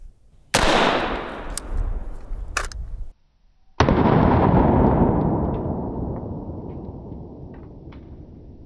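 A 5.56 rifle fired into ballistics gel outdoors: two loud, sharp gunshots a few seconds apart, each a sudden blast trailing into a long, fading rumbling echo, with no talking.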